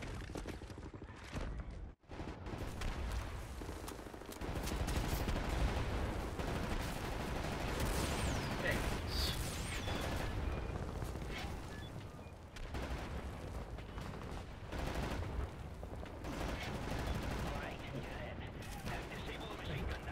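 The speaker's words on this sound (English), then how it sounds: "Right, lads, be ready to lay down suppressor fire." Sustained suppressing gunfire in Wolfenstein: The New Order, a dense, continuous wash of automatic shots and blasts that runs for twenty seconds at a steady, fairly subdued level, with voices talking over it.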